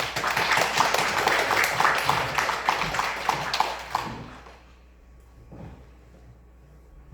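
A church congregation at a Sunday service bursts into loud, dense applause for the arriving president, sustained for about four seconds before fading to a quiet room.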